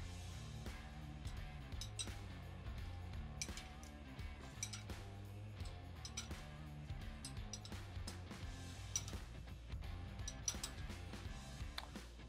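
A 3/4 inch wrench turning bolts on a Harley-Davidson springer front end, with faint metallic clinks and ratcheting ticks under a steady low hum throughout, quiet and close.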